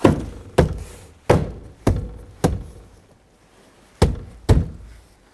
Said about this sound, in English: Work your way around the perimeter of the door, snapping those plastic buttons into place.